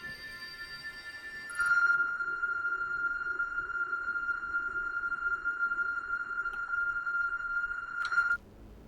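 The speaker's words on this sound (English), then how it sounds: "I do hear music." A steady electronic tone hums alone in the video game Outer Wilds, switching on abruptly, holding at an even pitch for several seconds and then cutting off sharply.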